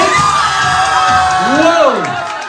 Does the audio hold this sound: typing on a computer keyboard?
no